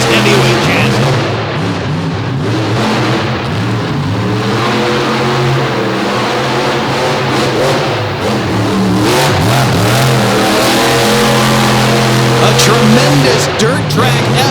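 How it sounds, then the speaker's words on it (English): At a DuQuoin dirt-track truck event, a heavyweight truck's engine roars loudly and continuously, wavering in pitch under an announcer talking through most of the stretch, with bursts of crowd and crackle at the end. "Tremendous dirt track effort pushing the truck across the finish line"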